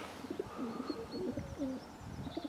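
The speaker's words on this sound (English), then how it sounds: "let's just let them off and see how we do today" Racing pigeons cooing and murmuring in a basket on a crisp, nippy day just before release, soft overlapping coos close by with faint outdoor background.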